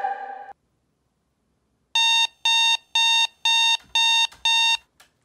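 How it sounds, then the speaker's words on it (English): An alarm clock rings in six sharp, evenly spaced electronic bursts after a short tone and a pause of silence, loud and close. "Are you still waking up with an alarm clock?"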